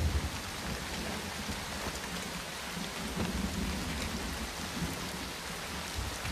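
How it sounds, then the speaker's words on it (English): Steady outdoor downpour pattering and hissing on surfaces, with low rumbles of thunder rolling underneath throughout. "The rain! My clothes!"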